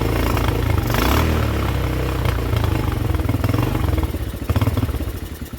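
A small pit bike engine, freshly running again after a carburetor cleaning, putters close by with a rough, pulsing idle that rises and falls as the throttle is worked.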